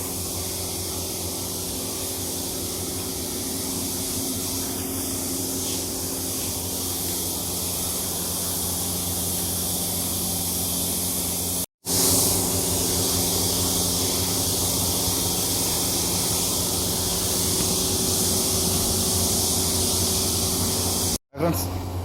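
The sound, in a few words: spray painting Maruti Suzuki Baleno car door matte black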